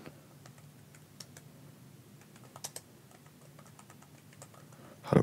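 Soft, irregular keystrokes tap on a computer keyboard at a quiet level, with a louder thump at the very end and no speech.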